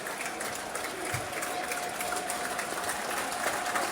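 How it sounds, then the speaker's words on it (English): Stadium crowd at a Millwall versus Huddersfield Town football match applauding from a distance, a faint steady wash of clapping and crowd noise with a voice talking over it. "I don't know what the applause is for."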